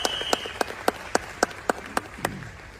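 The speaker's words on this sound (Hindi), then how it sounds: "एक बार जोरदार तालियां हो जाए वेस्टीज के लिए" Evenly spaced claps at a Vestige business event, about ten sharp strikes in a steady rhythm, clear and fairly close against a quiet background.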